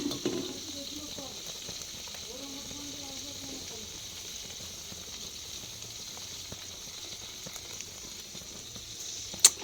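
Homemade ghee simmers quietly in a pan, a faint, steady low bubbling and soft sizzle that runs evenly throughout, with a small knock near the end.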